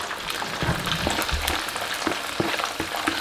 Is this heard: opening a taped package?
no